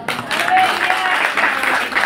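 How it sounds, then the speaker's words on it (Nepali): An audience claps together, a dense, steady wash of applause filling the whole stretch at close, even loudness. "ताली बजाइदिनुहोस्"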